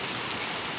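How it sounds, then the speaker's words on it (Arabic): Rain pours down during a winter storm in Oman, a dense, even hiss of falling drops filling the brief moment without any voices. "أمطار خير كثيرة"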